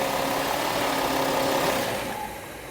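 An Audi Q7 engine with a turbocharger underboost fault idles with a steady, even hum, then drops off as it shuts down near the end.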